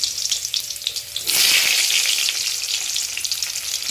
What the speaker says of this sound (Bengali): বেগুনটা ছেড়ে দিলাম। বেগুনটাকে ভেজে নিই।